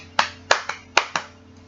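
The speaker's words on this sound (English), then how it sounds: "Can we give that a clap?" A few sharp hand claps in an irregular rhythm, five distinct slaps from a small group or single person, close and fairly loud against a quiet background hum.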